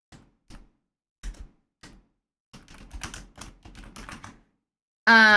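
Clacky keystrokes on a keyboard arrive as a few separate taps, then a denser run of quick typing, and a sudden loud burst of noise cuts in at the very end.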